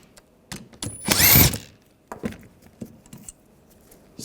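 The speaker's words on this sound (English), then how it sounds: "Take these bolts out." A hand socket tool and wrench clicking and clanking while 12mm bolts come out of a rear brake caliper bracket on a 2009-2017 Volkswagen Tiguan, with one longer loud ratcheting burst followed by scattered metallic ticks and knocks, close up.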